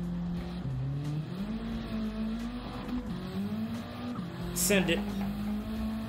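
A car engine in the racing game The Crew Motorfest, driven with a manual gear shifter and clutch, hums steadily and then climbs and drops in pitch across gear changes, with a short tire squeal near the end while someone talks over it.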